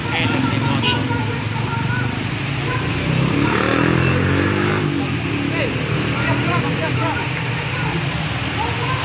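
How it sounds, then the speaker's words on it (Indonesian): A motorcycle engine runs steadily and rises briefly in a rev near the middle, heard from close by over wind and road noise, with no voices. "enak nih motor"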